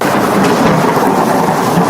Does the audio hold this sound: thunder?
yes